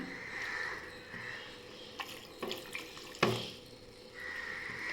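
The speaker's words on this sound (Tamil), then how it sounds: "இப்போ நம்ம கொஞ்சமாக தண்ணி சேர்த்துக்கலாம்" Water is poured into a pan of drumstick stir-fry, a soft steady pouring hiss with a few brief splashes and clinks in the middle, close and fairly quiet.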